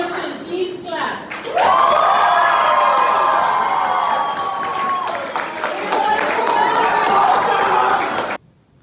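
A debate audience claps and cheers loudly to vote against the motion. Brief talk comes first, then a sustained, dense wave of applause with whoops, which cuts off sharply near the end.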